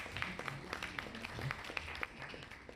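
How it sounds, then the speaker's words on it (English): Scattered, fairly faint clapping from an audience at a product launch event in Chennai, irregular individual claps spread over a few seconds rather than a dense ovation. "Lata Dubey deserves a big round of applause"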